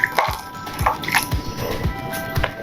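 Water being poured into ghevar batter and whisked in, giving repeated wet squishing and dripping sounds in a steady rhythm, close up and fairly quiet.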